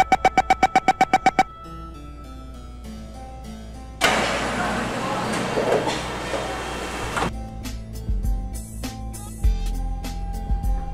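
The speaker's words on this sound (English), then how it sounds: "Doors closing." A ringing train door chime of rapid repeated tones in OpenBVE, then a long hiss of air as doors slide shut, followed by a thud and a low motor hum.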